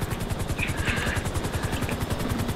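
An aircraft in the video game GTA 5 Online thrums close and loud with a rapid rhythmic rotor-like chopping, steady throughout with faint higher whooshes above it.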